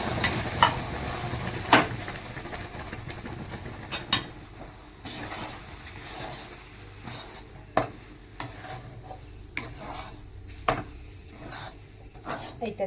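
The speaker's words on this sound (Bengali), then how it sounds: "এবারে এই জলটা আমি এই সুজিটার মধ্যে ঢেলে দেবো।" Hot salted water goes into semolina, and the mix is stirred and worked into a dough in a pot, with scraping, sloshing, and sharp clinks of a utensil against the vessel at irregular intervals, close and moderately loud.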